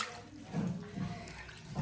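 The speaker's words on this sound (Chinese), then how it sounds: "再给这个鸡洗一下" Running water splashes steadily as a chicken is washed in a rural Chinese home kitchen, with brief louder gushes and faint voices in the background.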